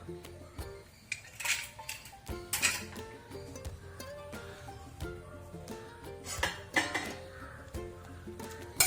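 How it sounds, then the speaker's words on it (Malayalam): A pressure cooker lid is unlocked and opened after a taro erissery curry has cooked, with scattered close metallic clanks and clinks of the lid and pot, some louder knocks between quieter handling noises. "നമ്മളുടെ കുക്കറിലെ എയറൊക്കെ പോയിട്ട് മൂടി താഴേക്ക് ആയിട്ടുണ്ട് ഇനി നമുക്കിതൊന്ന് തുറന്നു നോക്കാം"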